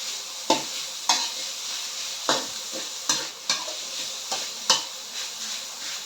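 Minced pork stir-fried in a pan for a shiitake mushroom dish, with a spatula scraping and clanking against the pan about eight times over a soft, steady sizzle.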